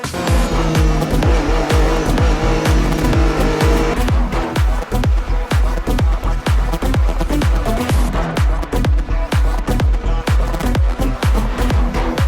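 A race car is driven hard, its engine loud and close as it revs up and down through rapid gear shifts, with repeated bursts of acceleration and tire squeal in a continuous aggressive run.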